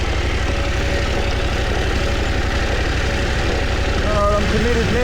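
A motorbike engine idles low and steady on the descent of a steep, shaly hill, a constant rumble with a brief rise near the end.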